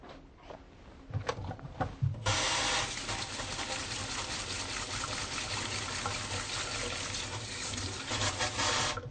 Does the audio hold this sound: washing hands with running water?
yes